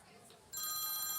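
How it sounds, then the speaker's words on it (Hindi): A telephone starts ringing abruptly, a bright electronic trill that continues steadily and fairly faint after a moment of quiet. "वह फोन किसका बज रहा है ये?"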